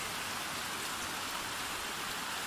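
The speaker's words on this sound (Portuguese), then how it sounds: "Muita chuva, seguimos com muita chuva aqui em Ubajara." Heavy rain pours steadily in Ubajara in the Serra da Ibiapaba, a dense, unbroken hiss of downpour with no pauses, close and loud.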